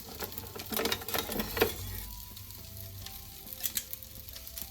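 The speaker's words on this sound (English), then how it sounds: "take my meatballs out and place them in my marinara sauce and let them finish cooking" Browned meatballs being placed into marinara sauce, giving a soft crackling sizzle with a few clattering bumps early on, then settling to a quieter, steady bubbling simmer.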